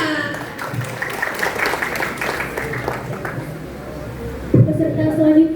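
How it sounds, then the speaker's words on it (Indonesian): Audience clapping at a school preaching contest for Isra' Mi'raj at an Islamic junior high, a dense, continuous round of applause filling the hall, with a louder thump and rumble near the end. "Beri tepuk tangan yang meriah."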